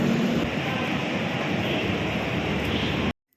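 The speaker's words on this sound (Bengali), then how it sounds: "ট্রেন প্ল্যাটফর্ম ছেড়ে দিয়েছে আর আমিও ট্রেনে উঠে পড়েছি।" Shatabdi Express 12041 leaving the platform, a steady broad rumble and rush of the moving train heard from close by, continuous until it cuts off abruptly near the end.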